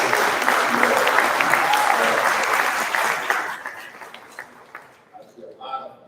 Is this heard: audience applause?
yes